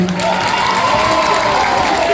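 An audience at an academy event claps and cheers, a dense steady burst of applause filling the whole moment with crowd noise.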